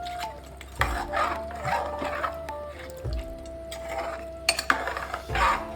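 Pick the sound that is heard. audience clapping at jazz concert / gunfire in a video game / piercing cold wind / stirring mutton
stirring mutton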